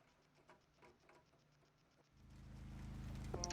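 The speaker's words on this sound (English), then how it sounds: "I like that they kept the rain on this screen as well" Faint rain patters steadily in a point-and-click detective video game outside a police station, then a low rumbling hum swells underneath and grows louder.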